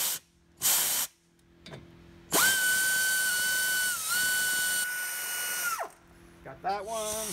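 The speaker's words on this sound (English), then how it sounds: "Let's get that wrench on." A pneumatic power wrench hisses and whines at high pitch while fastening a part on a ProCut brake lathe in a workshop, with short air bursts before one sustained run, close and loud.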